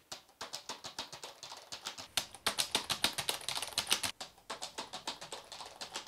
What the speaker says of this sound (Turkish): klavyenin sesini 3 mikrofon arasındaki farkını size göstermek istiyorum